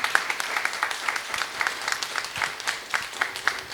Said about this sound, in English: if we could just give a round of applause for Mitch Stevenson